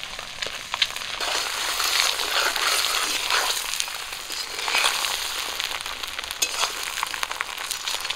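Duck eggs fry in oil seasoned with salt and turmeric, making a steady, moderately loud crackling sizzle with scattered pops and no talking.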